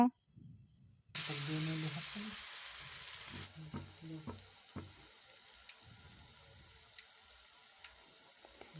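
Stuffed winter melon pieces hit hot oil in a wok, and a loud sizzle bursts out after a second of quiet. It eases into a softer steady fry with scattered crackles and pops.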